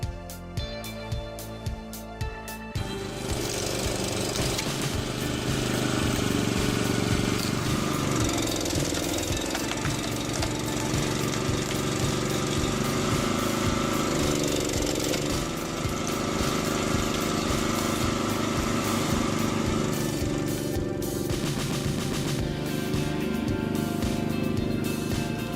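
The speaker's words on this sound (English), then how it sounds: "A good cone splitter turns a slow, frustrating task into something much smoother." Cone log splitter machine working firewood, a loud continuous mechanical engine drone with grinding texture, preceded by a few seconds of sharp rhythmic knocks.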